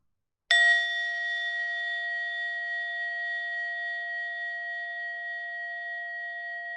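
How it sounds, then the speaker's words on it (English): A meditation bell is struck once and rings out clearly, its bright tone sustaining and fading very slowly over several seconds in a quiet room. "So in a moment, the bell will ring again."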